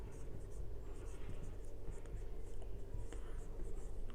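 Pen scratching out accounting figures on paper, with soft intermittent strokes close by over background hum while a voice murmurs quietly.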